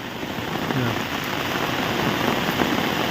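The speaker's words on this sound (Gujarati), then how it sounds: "આવો કંઈક વરસાદ ચાલુ અને ધીમો ધીમો ચાલુ જ થઈ ગયું" Steady rain falling in Botad, Gujarat, during a monsoon shower, a dense, even patter of drops with no pause, close and moderately loud throughout, with a faint rumble underneath.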